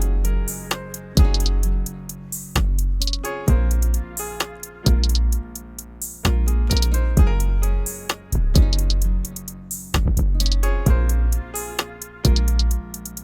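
A hip-hop beat with deep, booming 808 sub bass hits and crisp hi-hats plays loudly in a steady rhythm, no voices.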